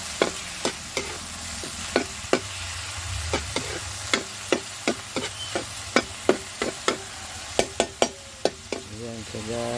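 Pork sautéing in a pan outdoors on a farm, a soft steady sizzle broken by repeated sharp scrapes and clacks of a utensil stirring against the pan at an irregular, fairly quick pace.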